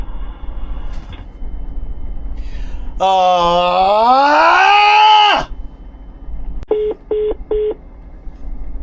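Three short, evenly spaced telephone keypad beeps sound close up, following a louder rising electronic tone.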